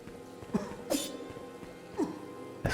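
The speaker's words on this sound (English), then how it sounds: "That's coughing." A video game character in Hunt the Night coughs several times in short, rough bursts spread across a steady ambient backdrop, with no talking.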